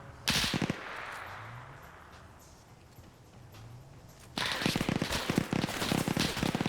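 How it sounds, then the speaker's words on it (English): An MG42 machine gun mounted on a wagon in a multiplayer war game fires two long, rapid bursts separated by a quieter stretch of rumbling ambience. The rattling shots sound moderately distant and loud, and no one speaks. "They're taking suppressive fire from that couple wagon with the MG42 on it."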